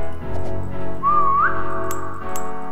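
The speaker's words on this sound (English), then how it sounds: "Whistle." Whistling in a video game set in an IKEA-like store: a single rising whistle note, fairly loud, heard over a steady dense game soundscape with no speech.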